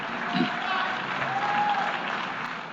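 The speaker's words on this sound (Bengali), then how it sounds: "আর বাঁচে করতালির গর্জন" Applause filling the UN General Assembly hall, a broad steady wash of many hands clapping throughout, with the murmur of voices mixed in underneath.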